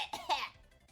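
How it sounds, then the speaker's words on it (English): A single sharp, close cough with a short rasp as it trails off, heard on its own with no talking. "I do kind of have an iPad kid cough,"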